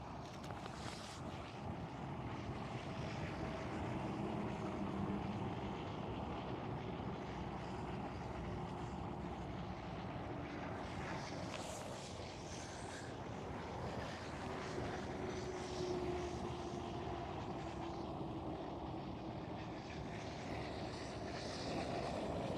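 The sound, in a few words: airliners at Schiphol airport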